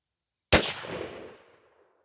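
Remington 870 12 gauge pump shotgun firing a 3-inch Nitro Magnum shell with 1-7/8 oz of #4 shot, fitted with a Remington Ventilator choke: a single loud, sharp blast followed by a fading echo tail, with no talking.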